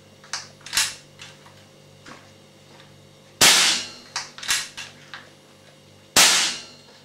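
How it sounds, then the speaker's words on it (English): Two sharp, loud cracks from an air rifle fired without a silencer, a few seconds apart, each with a short decay and no talking. Fainter clicks and taps come before them. "First, 2 shots without a silencer."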